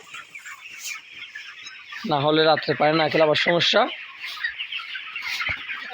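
Broiler chickens on a poultry farm at night give a short burst of close, harmonic clucking calls lasting about two seconds, with a person talking before and after and a constant farm hum underneath.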